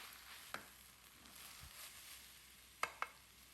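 Udon stir fry with chicken is mixed in a pan as green spring onion tops go in: a faint background sizzle is broken by a few light scrapes and clicks of a utensil, with no talking.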